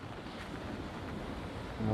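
Rough sea on the rainy coast at Thangassery, Kollam, Kerala gives a continuous broad roar of surf and wind noise that swells near the end, with no voices.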